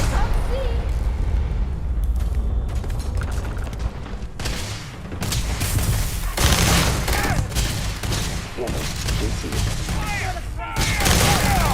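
Grenade explosions and gunfire in the video game Starfield, heavy booms and rapid volleys of shots in loud clustered bursts with brief lulls, while voices call out amid the fighting.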